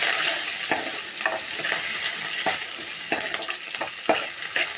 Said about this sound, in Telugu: పోపు వేస్తున్నాను.